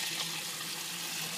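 Water running through a funnel held under water in an improvised bubble washer for film developing, a steady close gushing and rushing flow with no voices.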